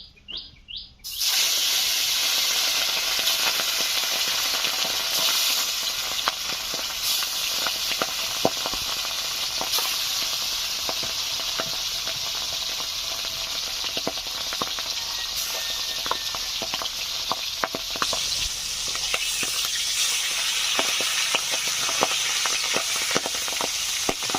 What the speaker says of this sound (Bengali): তেল ভালোভাবে গরম হয়ে গেছে, মাছগুলোকে দিয়ে দিচ্ছি।